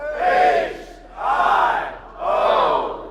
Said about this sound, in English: how about O-H-I-O for Arnold? Let's hear it. O-H-I-O